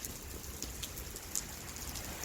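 Steady rain pattering on a surface, a soft continuous hiss with scattered louder drops, fairly faint and without voices.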